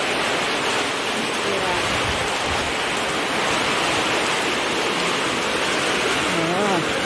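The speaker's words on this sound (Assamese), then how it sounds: "বাহিৰটো দেখাই দিম, কি বতাহ ধুমুহা দিছে" Strong wind storm roaring outside during a power cut, a steady broadband rush that fills the whole stretch with no breaks.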